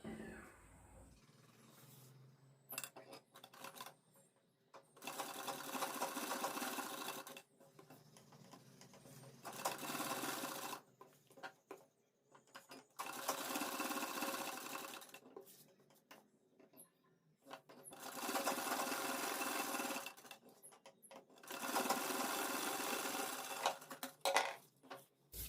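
A sewing machine runs edge stitching along a kurti neck pattern in five separate bursts of a few seconds each, with quiet pauses and fabric handling between them.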